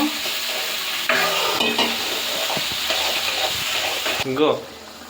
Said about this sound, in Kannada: ಟೊಮೊಟೊ, ಫ್ರೈ ಮಾಡ್ಕೊಬೇಕು. ಸ್ವಲ್ಪ ಹಸಿ ವಾಸನೆ ಹೋಗೋವರೆಗೂ.